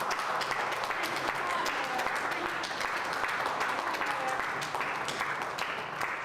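Applause from an audience at a council grant approval signing ceremony, a steady patter of many hands clapping throughout the clip, fairly faint and even in level, with murmured voices under it.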